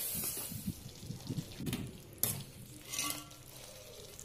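Paneer being stirred and tossed in a pan for chilli paneer with red chilli, soy sauce and a little water, giving soft scraping and clattering of a spoon against metal over a faint sizzle, in irregular bursts.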